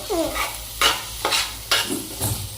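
Mixed vegetables (beans, corn and carrots) stir-fried in a pan tempered with chilli, garlic and curry leaves: about five rhythmic spatula scrapes over a steady close sizzle, with no talking.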